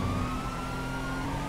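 Police siren wailing steadily in GTA 5 while the police give chase, sustained and prominent over constant vehicle rumble and traffic noise.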